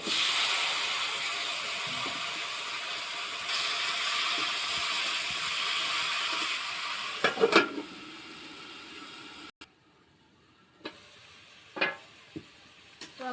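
Onions and vegetables sizzle steadily in hot oil for a Bengali raw banana and fish curry, a loud continuous frying hiss, then a few clanks of stirring before the sizzle drops away and returns fainter.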